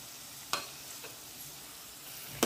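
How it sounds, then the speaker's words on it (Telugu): Tomato pieces fry in a pan with onion paste for a Magha fish curry, a soft steady sizzle broken by two sharp spatula knocks against the pan. "ఇవి బాగా వేయించుకుందాం"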